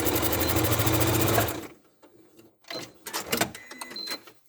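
Home sewing machine stitching a seam on a small fabric ladybird toy, a close, loud, steady rapid whir for about a second and a half before stopping, followed by faint handling clicks and rustles.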